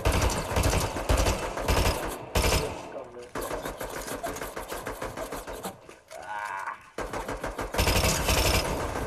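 Rapid automatic gunfire in Fortnite, loud bursts of rattling shots in quick rhythmic volleys with brief pauses, a short lull, then more sustained firing, with game effects mixed in and voices faintly underneath.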